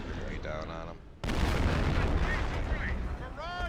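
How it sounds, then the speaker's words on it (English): Artillery barrage in the Company of Heroes Blitzkrieg mod, a sudden loud blast that opens into continuous rumbling explosions and shellfire, with game voice lines and someone talking underneath. "it's actually crazy how much artillery you're going down on them"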